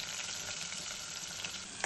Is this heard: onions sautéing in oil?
yes